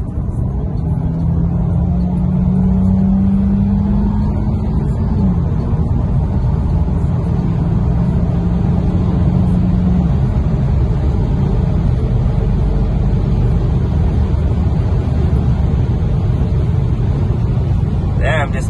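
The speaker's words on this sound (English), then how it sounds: "I'ma do a 60 to 120 pull in a stock Q50 and see how it does." A stock Infiniti Q50 3.0t Silver Sport pulls hard from 60 to 120 mph, heard from inside as a loud, continuous engine and road roar with a rising tone. A few faint voices sit under it.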